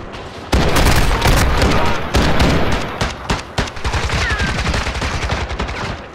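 Call of Duty: Modern Warfare II raid combat, with loud bursts of automatic gunfire and heavy booming blasts, like thrown bombs going off. Sharp cracks and rapid volleys pile up close and relentless.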